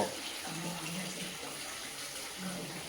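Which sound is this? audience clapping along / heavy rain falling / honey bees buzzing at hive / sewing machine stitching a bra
heavy rain falling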